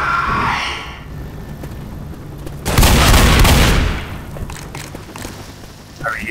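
Gunfire in a video game comes as a loud, heavy burst lasting about a second, with smaller thumps and shots around it and voices talking before and after.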